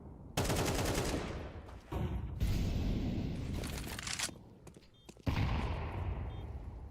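Automatic AK rifle fire in a Counter-Strike match rattles in long, dense bursts separated by short gaps, loud and sharp, with a final burst near the end.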